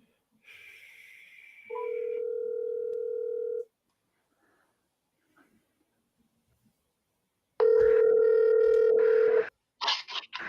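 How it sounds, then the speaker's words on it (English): A telephone line sounds a steady dial tone, then a series of DTMF dialing beeps follows, with a second long tone after a quiet pause and brief voices at the end. "I'm going to call you."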